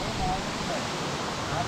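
Waterfall at Melaramthattu in Kerala, a continuous loud rushing roar of falling water heard close by, steady and unbroken for the whole moment.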